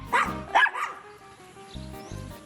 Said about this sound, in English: Rapid-fire barking means emergency.